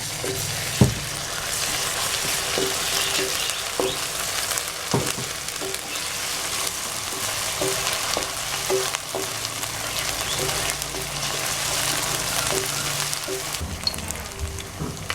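Ginger garlic paste frying with onions in a pan: a steady, loud sizzle runs throughout, with occasional clicks of stirring and no talk.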